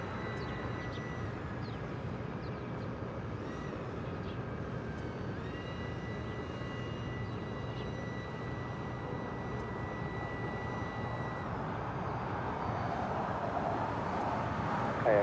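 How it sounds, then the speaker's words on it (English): Emirates Airbus A380 airliner rolling along the runway at LAX, a steady distant engine whine and rumble with faint tonal hums, swelling slightly louder toward the end. "Emirates A380 now rolling down to 4 left"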